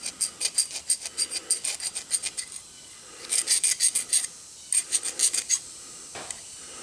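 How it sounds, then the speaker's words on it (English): A hand file rasps a burr off a steel brake line fitting in short, rhythmic strokes, close and crisp, in a quick series, then a pause and two more bursts of strokes. "I need to take that burr off."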